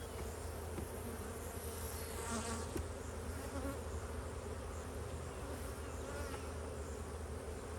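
Honeybees from two swarmed, queenless hives in a cow pasture apiary hum in a steady, dense drone that fills the whole stretch, close and constant with no talking.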